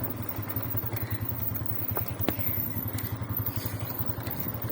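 A motorcycle engine runs in a steady low rhythmic thrum, close and continuous, with occasional light clicks and rattles over it.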